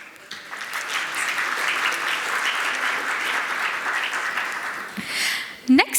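A large audience at a panel discussion event gives a dense, loud round of applause welcoming a speaker on stage, sustained for about five seconds before tapering, with a few sharp clicks and thumps near the end.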